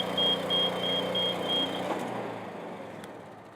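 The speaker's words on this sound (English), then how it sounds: "So I'll just start the machine, and now as you'll see, I can operate the machine very simply by using those toggles." An Athena 850 tracked machine's engine runs as a steady, close mechanical drone with a high, regular beeping tone pulsing over it. The beeping stops partway through and the hum fades lower as the machine moves off.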